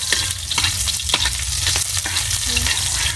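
Store-bought cooked food, with garlic and onion, sizzles in a hot pan as it is stirred, a steady close frying hiss broken by scraping clinks of the utensil.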